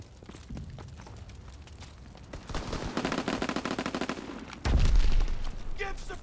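Sustained automatic gunfire provides covering fire in Call of Duty WWII, a dense rattling stream of shots that grows louder midway and ends in a heavy thump, with brief speech heard over the battle.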